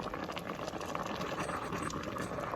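Cabbage simmering in a modest amount of water in a pot, a steady close bubbling and hissing boil that runs evenly throughout with no talking.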